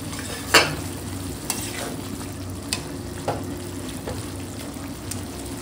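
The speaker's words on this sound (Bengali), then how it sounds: "দেখো এখন শাকটাকে আমি উপর নিচ করে একটু এরকম সব মিশিয়ে দিচ্ছি" Khesari greens frying with eggplant and onion in a pan, a steady close sizzle with a few soft spatula stirring knocks spaced through it.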